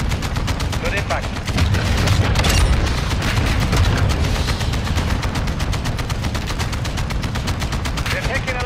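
Dense video game gunfire rattles at a contested hardpoint, with rapid automatic bursts and heavy booms rolling without pause, while faint voices and game callouts sit underneath.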